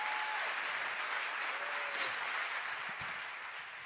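A church congregation applauds in a steady, dense wash of clapping that holds evenly for several seconds, then eases slightly toward the end.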